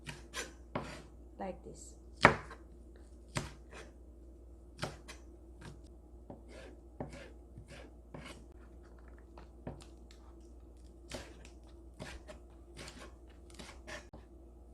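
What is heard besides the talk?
slicing green onion into long shreds with knife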